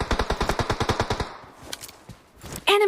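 Rapid automatic gunfire from PUBG Mobile rattles out in a fast, evenly spaced burst of about fifteen shots, then cuts to quieter scattered game noise and a short electronic tone at the end.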